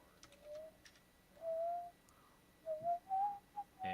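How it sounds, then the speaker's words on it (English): A person whistles a simple tune in short, wavering phrases with pauses between them, close and fairly clear against a quiet indoor background, with a few faint clicks. "Oh no, I'm whistling."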